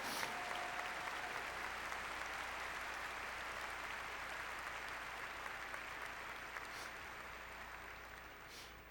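A commencement crowd applauds faculty and staff with a broad, even wash of clapping that carries steadily for several seconds, somewhat distant and gradually easing.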